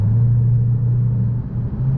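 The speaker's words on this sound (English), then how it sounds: "in eco mode it's just quiet. You still get the little rumble" A 2018 Dodge Challenger Hellcat Widebody idling in eco mode, giving a steady low engine rumble with a deep drone that holds evenly and close throughout.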